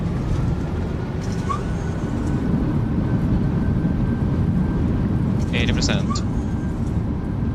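Thrust reversers of a PMDG 737-800 roaring on landing in Microsoft Flight Simulator 2024: a loud, steady broadband rumble throughout with a couple of faint beeps and brief higher chirps over it.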